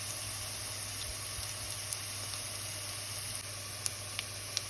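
Onions sizzling as they cook in hot oil with a little salt, a soft steady hiss of frying with occasional faint pops and crackles, fairly quiet and continuous throughout.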